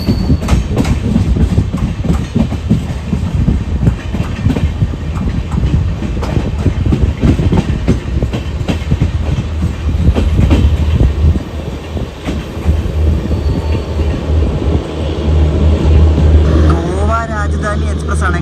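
The Velankanni Express runs along the Konkan Railway with a loud, steady rumble and rhythmic clickety-clack of wheels over rail joints, carrying on throughout with brief squeals near the end.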